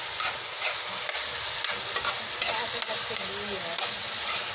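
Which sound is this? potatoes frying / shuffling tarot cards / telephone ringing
potatoes frying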